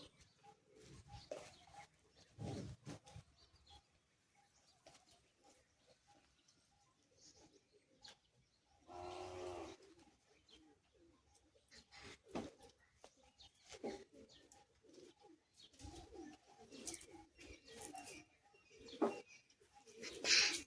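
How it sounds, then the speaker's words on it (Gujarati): Pigeons and other birds gather at a bird feeding spot, with soft cooing and scattered calls at low volume, some fluttering and rustling, and faint background sounds. "પક્ષીઓ હવે આવવા માંડ્યા છે, ટાઈમ થઈ ગયો છે પક્ષીઓને આવવાનો"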